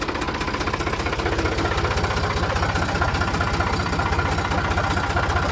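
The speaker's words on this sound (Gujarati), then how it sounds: "આપણું ટ્રેક્ટર" A tractor engine running at a steady idle, a loud, close, rapid rhythmic thumping knock that holds an even pace throughout with no voices.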